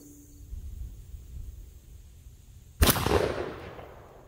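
A Cabela's Blackmaxx shotgun fires a single Herter's 2 3/4-inch #9 TSS shell at an outdoor 40-yard pattern test, one sharp loud blast after quiet wind noise, followed by a decaying rumble.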